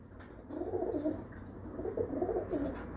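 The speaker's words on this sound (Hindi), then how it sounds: "ये टाइसन कबूतर है बड़ा" A large Tyson breeder pigeon coos softly and close by, giving two low rolling coos against a faint background hum.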